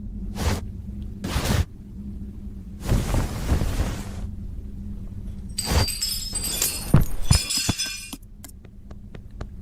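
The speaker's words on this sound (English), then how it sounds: "Nobody in the house hear all that glass?" Breaking glass and clinking shards crash through a horror video game, with several loud impacts and whooshes early on, then a burst of bright tinkling debris and scattered small clinks fading out near the end.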